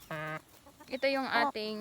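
Barred Plymouth Rock chicken giving a few short, close clucking calls in quick bursts, with someone talking between them.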